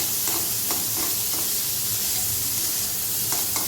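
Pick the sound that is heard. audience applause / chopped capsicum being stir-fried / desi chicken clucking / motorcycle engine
chopped capsicum being stir-fried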